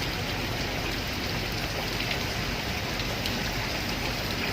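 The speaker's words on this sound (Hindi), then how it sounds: "बारिश और हवा बहुत तेज है" Heavy rain and strong wind pour down outside an open window on a houseboat in Kerala, a steady broad hiss and patter at moderate level with no voices.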